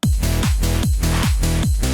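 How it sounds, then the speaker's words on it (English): Reverse clap in an electronic track, a swelling whoosh that sucks upward into each hit, repeating about every 0.4 seconds over a loud, sidechained bass pulse with no voices. "And then there is this reverse clap to get this effect."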